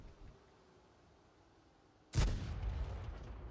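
A heavy cannon on the Churchill Gun Carrier tank in World of Tanks fires one sudden loud boom after a quiet stretch, and its rumbling echo trails off for about a second.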